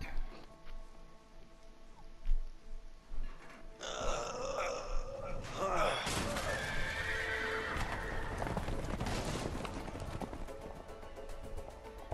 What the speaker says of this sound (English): Time to scare the horses.